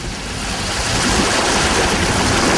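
Sea waves during a kayaking outing at a resort, a continuous close wash of surf and water noise with wind buffeting, rising slightly in loudness and with no voices.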